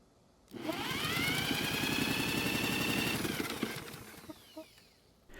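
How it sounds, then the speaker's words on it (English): A Toro lawn mower engine is cranked over for a compression test, producing a fast, steady mechanical chugging for about three seconds that ends abruptly, followed by a few small clicks and knocks. "So after spinning the engine over for a few seconds, the reading looks to be a very high 165 psi"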